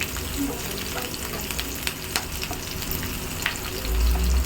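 Onions sautéing in oil left over from roasting a fish head, a loud, dense, continuous sizzle with occasional crackles and a slight swell of stirring toward the end.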